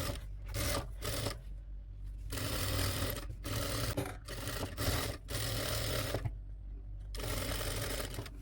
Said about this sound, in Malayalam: അതിന് ശേഷം ലേസ് വെച്ച ഭാഗം നമുക്ക് പതിച്ചടിച്ച് കൊടുക്കാം